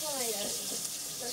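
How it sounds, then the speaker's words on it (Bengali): Chopped onions in hot oil for birista sizzle with a soft steady hiss and light crackle, faint and continuous, while a voice talks over it. "এবার তেলটা একটু গরম হয়ে আসলে আমরা পেঁয়াজ কুচিগুলো তেলের মধ্যে দিয়ে দিই তেলের বেরেস্তা করার জন্য"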